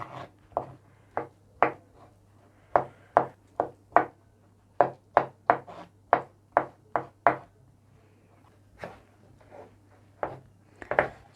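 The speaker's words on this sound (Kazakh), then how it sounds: "Піскен сәбізімізді де 4 бұрыштылап турап аламыз осылай" A knife chops boiled carrot into cubes on a board in about twenty crisp, sharp strikes, some in quick pairs, loud and close, with no talking.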